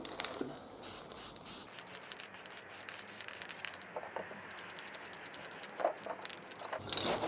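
Short hissing bursts of spray paint coat the handle of a prop Uruk-Hai sword black, with faint scraping and handling noises between passes and no talk.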